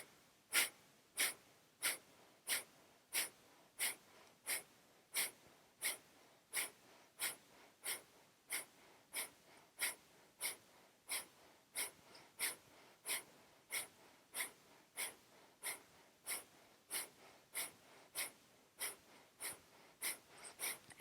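Steady, rhythmic breaths during an energizing yoga flow, roughly one sharp airy exhale or sniff per second repeating evenly for the whole stretch, close and clear with no speech.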